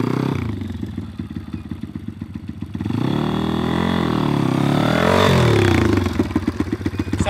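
A dirt bike motorcycle launches from a race start, the engine chattering at idle, then revving hard and pulling away in a loud rising roar before dropping back to a rough lumpy idle, close by.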